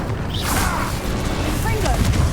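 Incendio fire spell cast in Hogwarts Legacy, a whooshing burst of flame with crackling impacts under a speaking voice.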